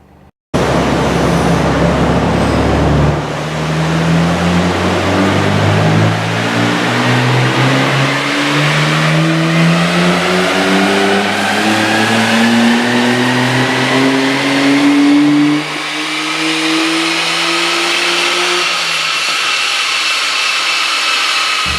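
A Nissan Skyline GT-R engine on a dyno pull, loud and continuous, its pitch climbing smoothly for about fifteen seconds before the throttle lifts and the sound drops into a lower, fading run-down.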